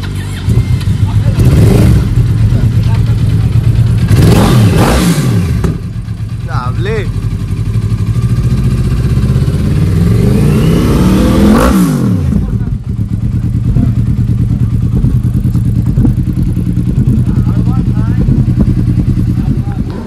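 A superbike accelerates hard in loud, close bursts, its engine rising sharply and sweeping in pitch with each gear pull. A constant road and wind rumble runs underneath, and later a steadier engine hum continues.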